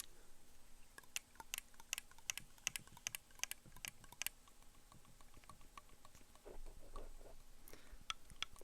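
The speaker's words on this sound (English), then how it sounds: "I never thought I'd be making noises with my clarinet that didn't involve me playing it." Rapid, crisp mechanical clicks and taps close up, irregular bursts of small key presses with brief pauses, as the metal keys on a clarinet's upper joint are worked without playing it.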